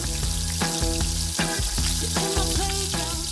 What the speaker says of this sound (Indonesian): Pertama-tama kita goreng dulu nih ayam yang udah diungkep ke dalam minyak yang panas.